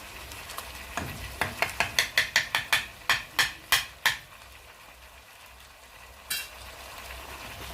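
Tomato paste and spices for pilau stirred in a hot pot, a fast run of sharp spoon scrapes and clacks that speeds up then stops, with a faint fry underneath and one last scrape after a pause.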